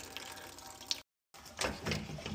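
Used coolant drains from the radiator petcock of a semi truck during a radiator replacement, a steady close splashing trickle that cuts out briefly and then resumes.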